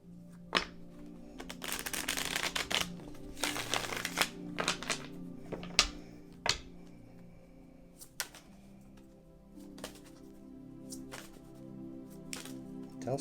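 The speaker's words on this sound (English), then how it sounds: "I'll give it one more shuffle." Tarot cards shuffled by hand during a card reading, a run of soft riffling bursts and light slaps and taps close up, quiet between bursts, with no talking.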